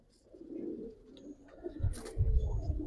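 Pigeons coo softly at a pigeon farm, a few low, breathy calls close by with faint chirps and a rustle between them.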